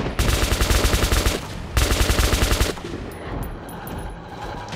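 In Metro 2033 Redux, a weapon fires two loud, rapid automatic bursts, each about a second long, separated by a short pause. Quieter gunfire and ambient game sounds follow.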